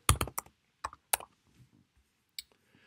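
Quick bursts of computer keyboard typing, with crisp separate key clicks in short clusters followed by a few scattered single taps, close and otherwise quiet.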